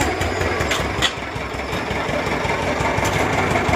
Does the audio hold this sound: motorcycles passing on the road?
yes